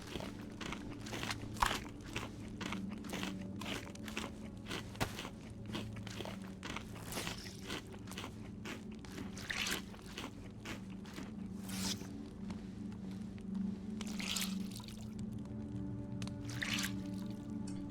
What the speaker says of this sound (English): Let me wring out my clothes real quick.